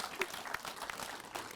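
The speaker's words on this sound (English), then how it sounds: "give a round of applause for Tuscarora Managed Care Alliance" A crowd at a live recovery-night event in Waynesboro applauds Tuscarora Managed Care Alliance with a short, steady burst of clapping, moderately loud and fairly close.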